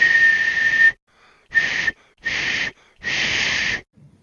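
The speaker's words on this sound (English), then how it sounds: "it's difficult for a husky to whistle" Someone whistles four times: one long tone, then three shorter ones split by brief silences, each thin and breathy, fairly loud and close, with no talk.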